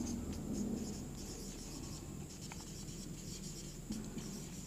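Soft scratchy strokes of writing on a board during a semiconductor physics lecture, faint and steady for a few seconds with no talking over them.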